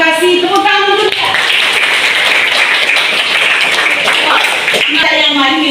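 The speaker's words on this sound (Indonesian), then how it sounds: "Tepuk tangan dulu ya." Students clap together in an Indonesian classroom, a dense burst of applause lasting several seconds, with a teacher's voice speaking Indonesian over it at the start and end.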